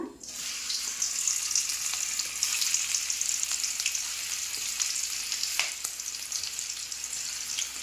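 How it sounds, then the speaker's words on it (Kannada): Minced-meat keema balls sizzle in a pan of hot oil, a steady, loud, bright frying hiss throughout with small crackles and pops, no voices. "ಇದನ್ನು ನಾನು ಈಗ ಎಣ್ಣೆ ಬಿಸಿ ಮಾಡಿದ್ನಲ್ಲ, ಆ ಬಾಣಲಿಗೆ ಬಿಡ್ತೀನಿ"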